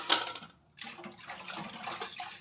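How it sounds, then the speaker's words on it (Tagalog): Water runs from a kitchen tap while dishes are washed in the sink, a brief steady splashing rush with a short gap partway through. "ako ngayon ay maghuhugas ng pinggan."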